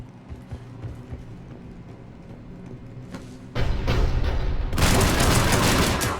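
Cannon fire in Mass Effect 3 opens with faint scattered thumps under a low rumble, then erupts into loud, sustained booming blasts that swell into a dense roar before easing slightly at the end.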